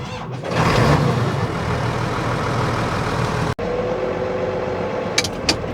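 A heavy Case IH Magnum tractor engine runs with a steady, loud rumble, briefly cutting out for an instant, then resuming its continuous drone.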